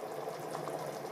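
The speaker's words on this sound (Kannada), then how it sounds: "ಅಕ್ಕಿಯನ್ನ ಹಾಕಿದ್ಮೇಲೆ ಕುದಿ ಬಂದಿದೆ" Rice for Hoskote-style mutton dum biryani boils in a pot, giving a close, steady bubbling and seething with no breaks.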